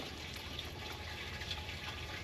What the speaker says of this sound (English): Yep, we got water coming out the fuel gauge, got water coming out the fill spout.